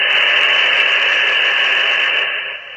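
Steady, loud broadband hiss from a radio receiver turned up to maximum volume with no signal tuned, a continuous static roar that drops slightly at the end, with no voices.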